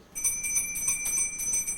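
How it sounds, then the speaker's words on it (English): A doorbell in a swank apartment rings in an old-time radio drama, its bright metallic chime repeating rapidly in a steady run of strikes, close and clear. "Even the bell I rang in this swank layout looked solid gold."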